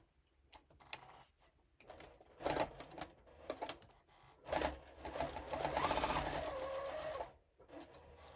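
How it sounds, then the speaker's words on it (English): A sewing machine stitches a foundation-paper-pieced bunny quilt block, running in short, quiet bursts of rapid mechanical chatter separated by brief pauses, with one longer steady run near the end. "I'm going to sew it on."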